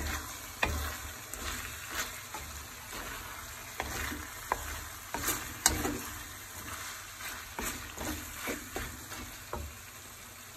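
Ilocano igado sautéing in a pan, a continuous sizzle and fry with repeated scraping and clinking of a spatula stirring the meat, close and alone without talk.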